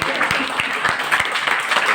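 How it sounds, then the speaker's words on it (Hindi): An audience at a ghazal recitation claps together in a steady, dense round of applause, close and fairly loud, with voices faintly audible beneath it. "तालियां बजा दें।"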